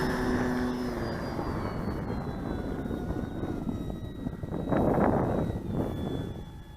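Radio-controlled Avios Grand Tundra model plane taking off into the wind, its electric motor whining steadily at close range and swelling briefly louder, with no talking.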